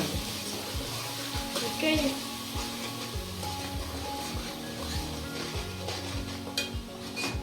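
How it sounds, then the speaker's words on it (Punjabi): Onions fry in a pan until brown with ground ginger and garlic for baingan bharta, a steady close sizzle broken by regular scraping stirs of a spoon against the pan. "ਹੁਣ ਆਪਾਂ ਇਹਨੂੰ ਚੰਗੀ ਤਰ੍ਹਾਂ ਭੁੰਨਣਾ"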